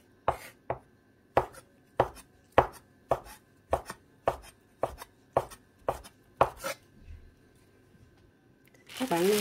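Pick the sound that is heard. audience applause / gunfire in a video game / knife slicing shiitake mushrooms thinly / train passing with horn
knife slicing shiitake mushrooms thinly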